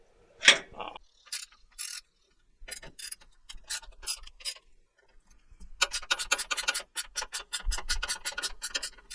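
A ratchet works a bolt out of a Ford Raptor bump stop: scattered clicking strokes and scraping at first, then a fast, steady run of close ratchet clicks, with one low thump near the end.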